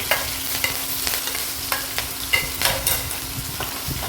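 Cumin, green chillies, a large chopped onion and curry leaves fry in hot oil in a pan, with a steady close sizzle and a run of sharp spoon scrapes and taps as they are stirred.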